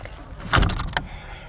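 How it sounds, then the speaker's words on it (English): A door on an animal shelter swings shut on a farm during bad weather, a single close thud with a brief rattle, followed by a second faint knock. "Close this door here."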